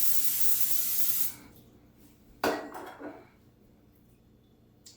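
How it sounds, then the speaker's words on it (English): A short burst of cooking spray hissing onto a pan, then it stops, followed by a clank of the pan and lighter handling sounds. "So let's go ahead and spray the pan."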